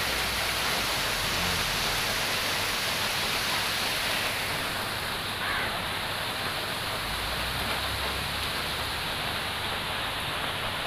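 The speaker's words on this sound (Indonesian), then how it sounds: "Hujannya memang betul-betul tersepol udane ini." Heavy rain pours down steadily on a late afternoon, a dense, even, close hiss that holds without pause throughout.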